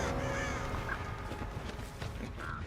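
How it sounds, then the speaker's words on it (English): In the horror game Dead by Daylight, crows caw a few times at moderate distance over a dense, rumbling in-game ambience. "oh, I hear crows."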